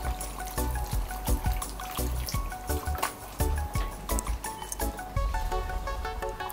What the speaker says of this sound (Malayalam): അതുകൊണ്ട് ഇതിലേക്ക് കുറച്ച് തിളച്ച വെള്ളം ഞാൻ ഒഴിക്കുകയാണ്.